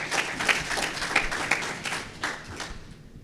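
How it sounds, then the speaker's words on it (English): An academic symposium audience claps in steady applause that starts moderately loud and gradually tapers off, heard on its own without voices. "Give Randy another round of applause, please."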